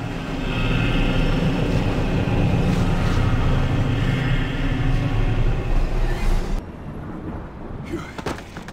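A helicopter in a Batman Begins video game cutscene, a loud, steady rotor roar with engine drone that cuts off abruptly near the end, leaving a quieter rumble.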